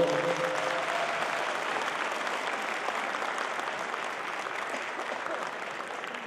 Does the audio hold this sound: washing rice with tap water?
no